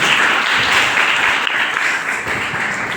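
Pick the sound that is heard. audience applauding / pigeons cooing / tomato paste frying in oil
audience applauding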